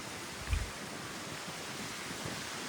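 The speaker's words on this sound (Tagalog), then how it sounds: "Oh, mahangin oh." Steady broadband wind roar blowing across the microphone outdoors on a Boracay beach, with a brief low gust thump near the start and no voices.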